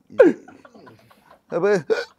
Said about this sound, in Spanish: Tiene hipo